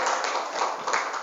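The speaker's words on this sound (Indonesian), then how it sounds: "Tepuk tangan buat Ustaz Bukhari ini hari ini ya." An audience at a teachers' seminar applauds for Ustaz Bukhari, a brief spell of light, uneven clapping heard at moderate distance with a few sharper claps standing out.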